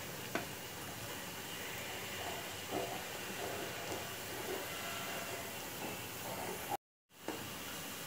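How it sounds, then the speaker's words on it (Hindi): Medu vada made from an instant premix frying in hot oil, giving a steady, close, even sizzling hiss that cuts out briefly near the end. "दोनों साइड ऐसे गोल्डन कलर करके फ्राई कर लेती हूँ।"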